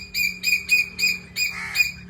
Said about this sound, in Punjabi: ਕੋਲਾਂ ਵੀ ਦੋ ਆ ਇੱਕ ਚੀਨੀ ਕੋਲ ਆ ਇੱਕ ਕਾਲੇ ਰੰਗ ਦੀ ਕੋਲ ਆ ਉਹ ਬੋਲ ਰਹੀ ਹੈ